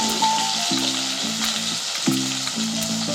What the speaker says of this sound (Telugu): కర్రీ ఒకసారి ఇట్లా ఫ్రై చేసి పసుపు పెట్టుకుని ఆలుగడ్డ పీసులు